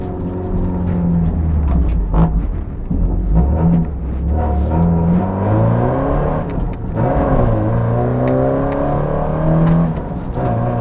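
A race car accelerates around a track, its mid-pitched engine rising and falling through gear changes in a steady, loud, close drone from the cabin, with no talking.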